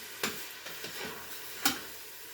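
Ground beef filling with tomatoes being stirred in a pan, a few soft scraping utensil strokes with a light background hiss, quiet and close, no voices.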